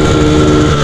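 A Honda Titan 150 motorcycle engine revs loud and close in a short, continuous burst of buzzing exhaust.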